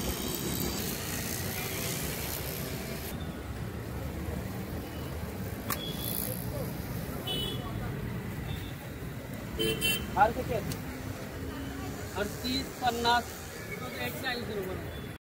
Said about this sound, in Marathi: ट्रॅफिक बघा किती आहे पाठीमागे